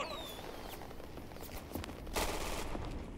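Gunfire rattles through a Day of Infamy match set around Normandy, with bursts of shots and a louder volley near the end over constant battle noise.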